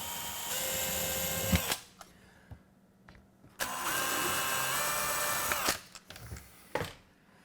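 A cordless power drill whines in two sustained bursts as hinge holes in a shaker-style kitchen cabinet are re-drilled, with short mechanical clicks and handling knocks between runs.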